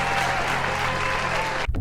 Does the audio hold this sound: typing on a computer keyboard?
no